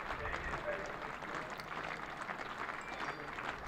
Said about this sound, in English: Gets a warm round of applause, as you would expect from the Durham faithful